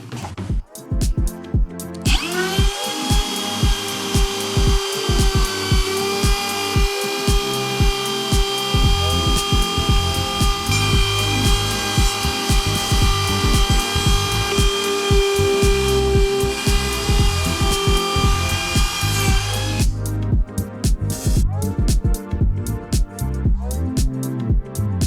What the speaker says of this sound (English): This is a pretty straight routing process here.